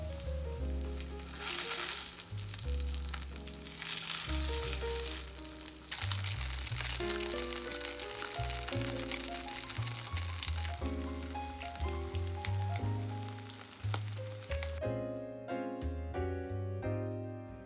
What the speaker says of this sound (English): flatten it gently in the pan, and cook for 3 to 4 minutes on each side until golden and crispy